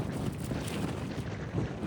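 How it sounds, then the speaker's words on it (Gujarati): Strong wind buffets the microphone in a steady, rumbling roar with gusty low-end pulses throughout, outdoors at a village cowshed, no voices present. "તો આખી નાળિયેરી એક પાછું કરી દે, એટલો પવન ઉડે છે"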